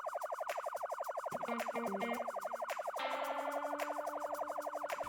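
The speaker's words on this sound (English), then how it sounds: "Turned the siren on and I started gathering all the zombies." A police car siren in a zombie survival video game wails in rapid warbling cycles, then shifts to a different pattern partway through, loud and continuous, with no talking.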